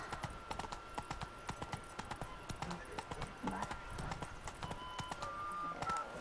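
Horse hooves in The Witcher 3 Wild Hunt, a steady clip-clop rhythm of rapid repeated hoofbeats, faint and continuous throughout.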